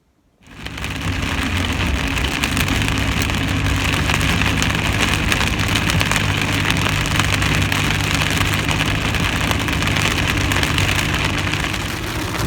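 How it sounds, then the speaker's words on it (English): Steady rain falls throughout on a November day outside a workshop, a dense even hiss with a low idling rumble beneath it and no talking. "I'm usually not a fan of a lot of rain"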